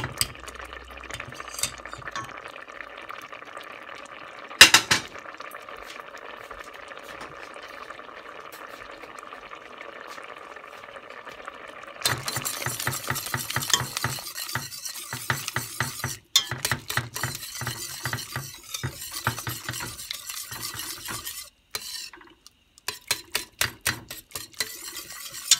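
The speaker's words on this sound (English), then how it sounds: "I'm going to try the whisk on this here." A whisk stirs thick blueberry jam with whole berries in a bowl with rapid, repeated scraping and clicking, after a quieter start and a single sharp clank.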